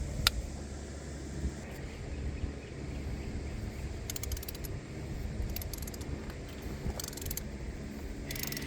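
Ratchet wrench fitted with a socket and extension working on tie rods of a 1999 Dodge Durango 4x4, giving bursts of rapid clicking at a close, moderate level, with quiet pauses between them.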